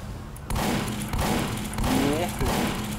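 Gunfire in Team Fortress 2: rapid bursts of shots sound against busy game noise, loud and close, while a voice talks over part of it.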